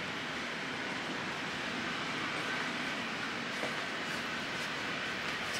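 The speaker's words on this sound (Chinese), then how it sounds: "车厢已经开始在动。" A first-class high-speed train carriage on the Zhangjiajie to Changsha line pulls away, giving a quiet, steady low rumble and airy interior hum with no voices.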